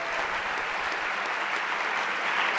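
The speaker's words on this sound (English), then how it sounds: "Dave, give a big round of applause." Sustained applause from a ceremony audience at a veterans event, dense steady clapping filling the room throughout with no voices breaking through.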